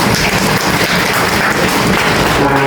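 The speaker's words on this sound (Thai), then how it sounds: "เราอยากจะปรบมือเพื่อเป็นการขอบคุณ" Audience applause at a Songkran festival community event in Thailand, a dense continuous patter of many hands clapping steadily and loudly throughout with no pauses.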